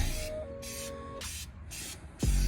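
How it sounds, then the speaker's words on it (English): Short bursts of hissing spray from an aerosol paint can applying wrinkle coat near an engine valve cover, several quick pulses close up, followed by a faint clunk. "I'm trying to spray down on this because I really don't want to spray into the valve cover"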